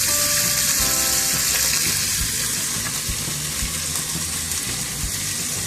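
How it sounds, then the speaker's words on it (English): Bacon sizzles steadily in a hot skillet, a loud, even crackling hiss that runs unbroken throughout. "You want to hear that nice sizzle."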